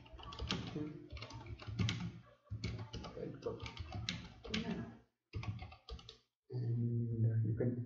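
Bursts of rapid keystrokes on a computer keyboard while working in the nano text editor in a Kali Linux terminal, clicking in short runs with gaps between them and a brief hum near the end.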